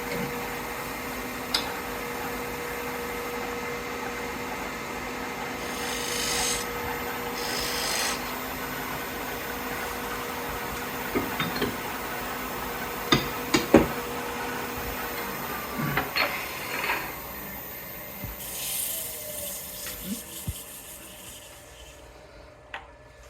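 A skew chisel cuts fine details into the bottom of a black locust wood bowl spinning on a lathe, giving a steady close rasping scrape with a few sharper catches and ticks and no talking.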